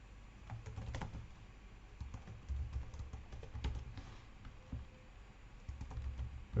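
A name is typed on a computer keyboard, and the soft key taps come in quiet, irregular clusters for several seconds, with no voices.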